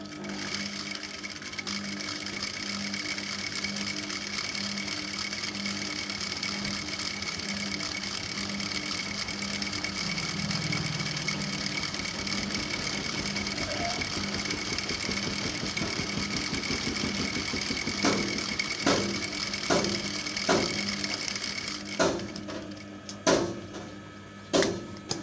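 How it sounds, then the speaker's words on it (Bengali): Sewing machine running a steady double line of stitching on a child's palazzo skirt, a continuous mid-level mechanical whir that turns into short stop-start bursts near the end. "এবার এটাও ডাবল সেলাই দিয়ে নেব।"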